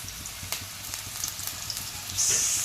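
Green chillies and carrots fry with onion in a pan, giving a moderate crackling sizzle with scattered pops and stirring clinks. A brighter hiss swells near the end, and no one speaks.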